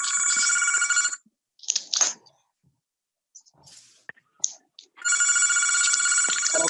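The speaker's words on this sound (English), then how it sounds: "I hear someone's phone in the background going off." A telephone ringtone trills loudly during a remote House public safety committee meeting, sounding for about a second, then stopping amid faint clicks and whispers before ringing again clearly for the last two seconds.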